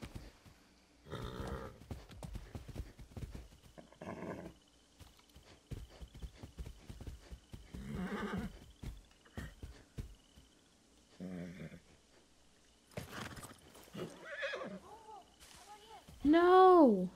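Wild horses in the Far Cry 6 video game clip-clop and snort in intermittent bursts, with a louder whinny near the end, while people talk over the game sounds.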